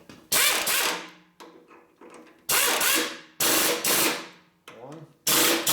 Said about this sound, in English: Let me pull out the power tools,